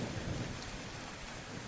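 Heavy thunderstorm rain pours steadily in the spooky video game Colorful未来, a dense close hiss of rain on surfaces with low rumbling underneath, continuous and without talk.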